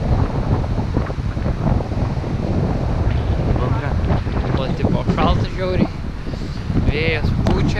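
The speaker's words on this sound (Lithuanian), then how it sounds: "vėjas pučia, kokį minus 50 laipsnių" Strong wind buffets the microphone outdoors on a freezing trip, a loud continuous roar and rumble under which people talk and laugh throughout.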